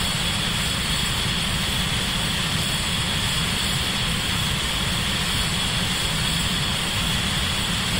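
An F/A-18 jet on final approach for a carrier landing in the flight simulator Falcon BMS, a constant loud engine roar and whine holding steady throughout, with no voices.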